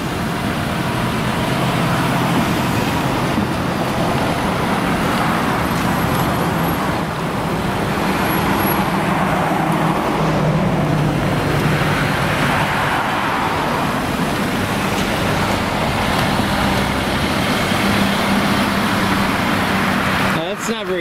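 Cars pull out of a church property into steady, loud road traffic, a continuous close rumble of engines and tyres that lasts throughout with no clear breaks.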